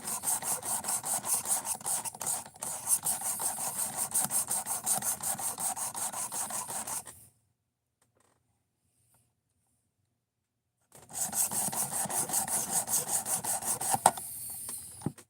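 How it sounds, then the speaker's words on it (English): A knife blade is drawn by hand across a sharpening stone in steady, rhythmic rasping strokes, loud and close. The strokes run for about seven seconds, stop in silence, then resume. "So hand sharpening is not that hard to do if you got a little bit of practice."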